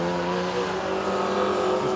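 A Ford Falcon drag car roars down the strip at Willowbank Raceway, a steady, loud engine drone held at full power for two seconds, with no break or pause.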